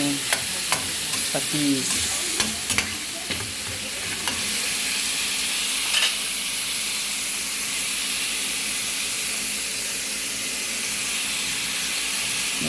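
Food frying in a pan is stirred, with a few scraping, clattering strokes at the start over a loud, steady sizzle and hiss that continues alone, close up.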